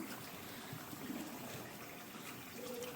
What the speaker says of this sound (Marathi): ती डायरेक्ट कुकरमधली मटकी आणि आपलं चिंचगुळ चिंचगुळाचं पाणी टाकूया